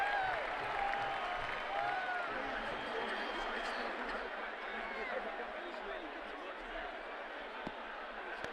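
A crowd applauds and cheers at a limited-overs cricket match, South Africa vs Canada, in a Cricket World Cup 2007 mobile game. The applause is steady and distant, fades slightly, and is quiet.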